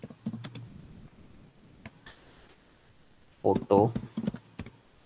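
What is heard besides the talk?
typing on a computer keyboard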